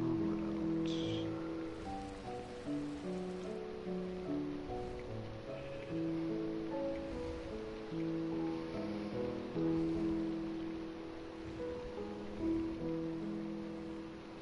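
Steady rain falling in the Minecraft video game, a continuous even wash of patter that runs throughout, heard alongside a layered melodic game soundtrack.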